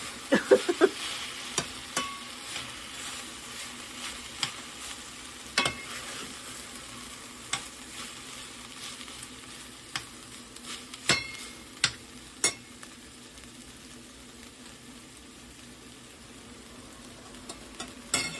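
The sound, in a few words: noodles stir-frying in a pan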